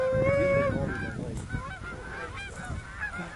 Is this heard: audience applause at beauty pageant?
no